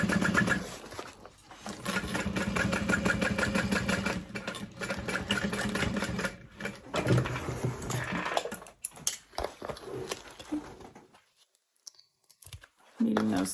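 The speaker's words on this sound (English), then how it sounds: "I'm also going to backstitch just slightly over my accent piece." A sewing machine backstitching a seam on a fabric bag, rapid mechanical stitching bursts that stop and restart several times, close and fairly loud, with a person talking over it before it falls quiet near the end.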